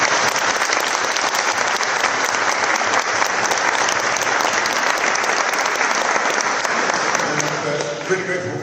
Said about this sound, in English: can we please give a round of applause for Wera?